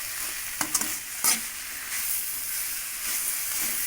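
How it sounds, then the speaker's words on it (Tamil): Moringa leaves being stirred in a pan over low heat, with soft scraping and clinking strokes over a continuous gentle sizzle. "நல்லா சிம்மிலையே வச்சுட்டு கிளறி விட்டுறலாம்"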